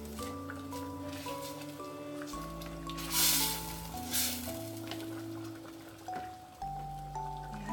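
A glutinous rice mixture for arroz valenciana is stirred in a hot pan, making a soft sizzle and scraping under steady background music, with a couple of louder stirring swells in the middle.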